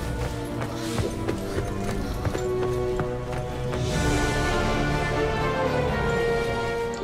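Horse hooves clip-clopping in the video game Sonic and the Black Knight, a steady run of taps under game music throughout.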